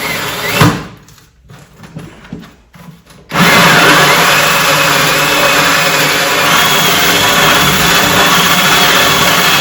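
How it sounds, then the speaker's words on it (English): After a few brief scraping sounds, a loud power drill starts and runs continuously, grinding steadily through wood close by, boring holes while building a bee swarm trap. "So I'm going to go ahead and drill this. It's going to get noisy."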